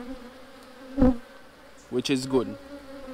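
Honey bees buzz faintly around an open hive during an inspection, a low steady hum with a couple of brief louder buzzes close by and a voice speaking briefly.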